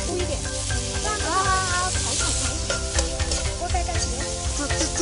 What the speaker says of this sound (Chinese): 这简直就是在快炒嘛